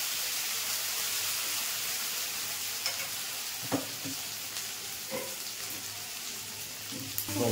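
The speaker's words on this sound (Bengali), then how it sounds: "মশলাটা একটুখানি ভেজে নেব।" Hand-ground spice paste with turmeric sizzles steadily in a hot pan, a continuous fine frying hiss with a few soft stirring scrapes, close and fairly quiet, no voices.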